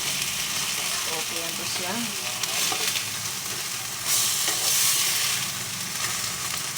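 Tuna steaks sizzle steadily in hot oil after being flipped, with a bright frying hiss that swells near the end while a voice speaks briefly over the stirring.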